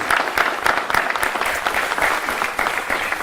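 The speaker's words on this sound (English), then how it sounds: "Let's give them a round of applause" Graduation ceremony audience applauding valedictorians, a steady dense wash of many clapping hands, fairly near and even in loudness throughout.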